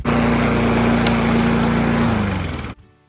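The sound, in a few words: self-propelled lawn mower running after gear fix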